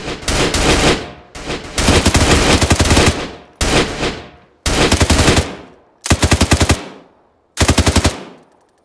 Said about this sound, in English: The fucking BTR shot at me and almost killed me.